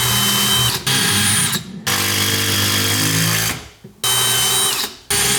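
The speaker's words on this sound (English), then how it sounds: "Forstner bit first, then a countersink hole, then the fastener." Drill boring into wood with a Forstner bit while building a garage cabinet, running in loud sustained bursts with short pauses between them, and no talking.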